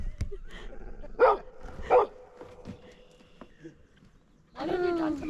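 A dog on a boat gives a few sharp, separate barks up close, with short gaps between them and a longer whining yelp at the end, while people talk quietly in between.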